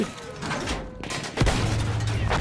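Gunfire in the Battlefield 1 campaign mission Through Mud and Blood, with a couple of sharp loud blasts and a low rumbling boom, heard over continuous battlefield noise.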